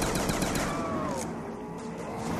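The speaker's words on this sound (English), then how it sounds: "It seems to fire, five rounds at a time." Weapon fire in a zombie survival shooter game, heard as clipped gunshots in quick groups of rounds against a busy mix of game noise, fairly loud and close.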